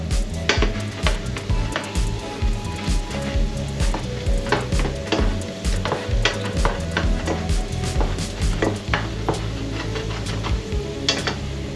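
Prawns sizzle loudly in hot garlic-infused oil in a pan for a Spanish gambas al ajillo, while a utensil keeps stirring and clinking against the pan. The frying is close and dense and no one talks.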